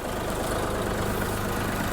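A DTZ 5354 mini tractor with a 1.9-litre CF3B35T 35-horsepower diesel engine idles with a steady, even rumble, close by and unbroken.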